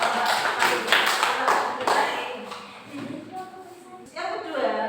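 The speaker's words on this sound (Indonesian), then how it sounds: "Berikan aplaus." Classroom audience clapping together at close range, a dense burst of applause that thins out, with a voice speaking over it toward the end.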